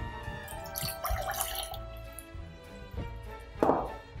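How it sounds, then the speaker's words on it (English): Tap water at 18 to 22 °C is poured into a mixing bowl for sourdough pizza dough. Close splashing and dripping come in a few short bursts with brief pauses between them. "So you're just gonna add the water to the bowl."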